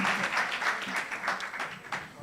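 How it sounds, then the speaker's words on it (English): A crowd at a university research week event claps steadily for the full stretch, a dense, fairly close patter of hands with faint voices underneath. "Clap hands for them as they go down."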